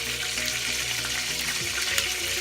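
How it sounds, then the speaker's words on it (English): Hot oil being drained out of a pan of browned meatballs for a stew: a steady, close, hissing, trickling pour, mixed with frying sizzle, continuous and without speech. "I'm going to have to drain some of this oil out of the pan"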